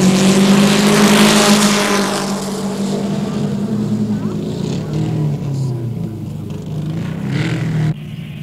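A loud, heavy drag racing car engine idles and rumbles close by at Santa Pod in 1968, its deep drone easing slightly after the first couple of seconds.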